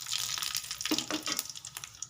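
Water runs steadily from a kitchen tap while dried anchovies are rinsed and scraped clean, making a soft continuous splash with small shifts as the fish are handled, and no one talks.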